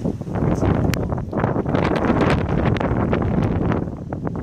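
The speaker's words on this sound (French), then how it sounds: "Le vent joue avec moi." Wind buffets a microphone outdoors at Sacré-Cœur in Paris, a loud, continuous rumbling roar with gusty swells throughout and no clear voices.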